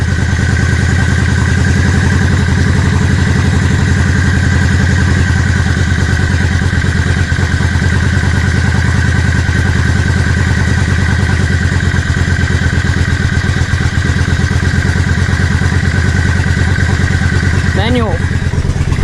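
A motorcycle engine idles after its carburettors have been adjusted, a steady, loud, even putter with a close mechanical clatter that holds unchanged throughout, with a brief voice-like sound near the end.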